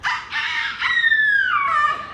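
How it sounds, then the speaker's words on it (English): A loud rooster crow, a long harmonic call rising then sliding down, heard close and alone. "What bird is that? A rooster."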